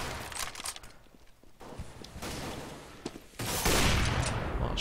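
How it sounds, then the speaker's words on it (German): Gunfire in a Counter-Strike match on de_nuke, with bursts of sharp rifle shots and a busy stretch of fire at the end, heard over the game's background noise without talk. "Oh, schöne zwei Schüsse"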